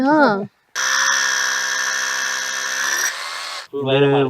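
An electric drill bores into dense red sanders wood with a loud, steady high-pitched whine for about three seconds, reaching two inches deep, with brief speech just before and after.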